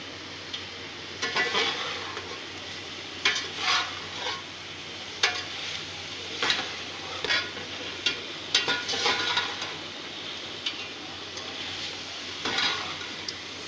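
Whole spices, ginger-garlic and tomato masala for chicken pulao sizzling in a pot, with a spoon stirring and scraping in repeated bursts over a steady frying hiss, close and moderately loud.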